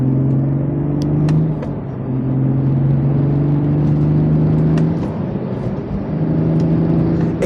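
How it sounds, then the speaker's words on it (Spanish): A 2024 Toyota GR Supra with a manual gearbox accelerates hard, its engine note droning and rising steadily through the gears with brief dips at shifts, loud and close throughout with no talk. "Es que es bestial cómo este coche acelera, cómo recupera."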